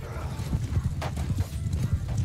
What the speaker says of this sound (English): it looks like we're about to have some horse skirmishing going on here.